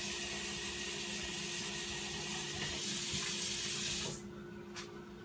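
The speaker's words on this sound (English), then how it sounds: "So that's some cold water." Cold water runs from a kitchen tap in a steady, close hiss for several seconds, then the stream is shut off near the end, leaving a faint background.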